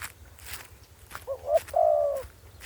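A large Thai zebra dove (spotted dove) in a bamboo cage gives a couple of short coos, then a longer drawn-out call, near and clear over a low background hum, with no talking.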